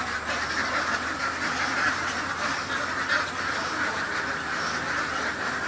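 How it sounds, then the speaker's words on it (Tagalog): Dense chorus of six-month-old ducks on a duck farm, many birds quacking at once in a steady overlapping din, close and loud throughout with no talking. "tungkol sa itsura ng anim na buwan na itik"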